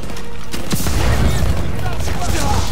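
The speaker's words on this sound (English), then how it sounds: "I'm taking heavy fire." Heavy gunfire from a Call of Duty WW2 campaign battle at a stronghold: loud, dense bursts of rifle and automatic fire with booming impacts, close and sustained throughout.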